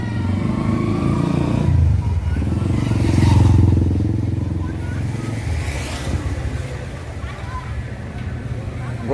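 Motorcycle engine with a loud exhaust, a steady deep rumble that swells and eases through the whole stretch, close by, with people talking over it.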